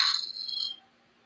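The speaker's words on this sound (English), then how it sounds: "That's the sound of a Cash App donation," A short bright chime of a Cash App donation alert on a live stream rings out for under a second, then fades to near silence.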